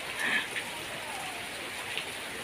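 Steady rain pours onto a rural house yard in the late afternoon, a dense even hiss of drops hitting the ground and foliage close by, with a few brief louder spatters standing out.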